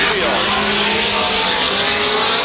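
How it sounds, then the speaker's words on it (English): A royal purple BMW drift car warming up at a Formula DRIFT round: a continuous loud, strained engine roar with a steady high whine, heard under commentary. "You can see Dylan Hughes warming up his royal purple BMW."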